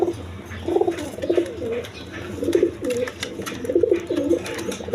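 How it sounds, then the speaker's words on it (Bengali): Gorra pigeons coo in repeated soft, throaty bursts, several calls overlapping in a steady rhythm, close by with faint background noise. "মাত্র 2000 টাকার বিনিময়ে নিতে পারবেন গররা কবুতর।"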